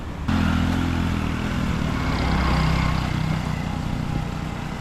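A motorcycle engine rumbles steadily close by in Sapa, Vietnam, a loud continuous low drone with mechanical clatter, holding for several seconds without a clear pass-by fade.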